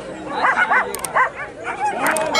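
Greyhounds at an open hare coursing race yelping and barking in excited, overlapping bursts, fairly close, with crowd voices mixed in.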